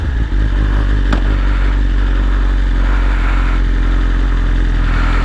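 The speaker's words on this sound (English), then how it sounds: "Let me give it a rev." A BMW S1000RR motorcycle fitted with an Arrow exhaust header runs close by with a deep, loud, throaty engine rumble and a brief rise in revs near the start.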